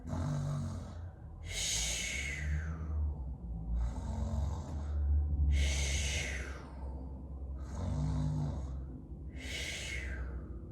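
Several people imitate deep snores together, slow rhythmic rasping inhales alternating with breathy exhales, repeating about five times in a steady cycle.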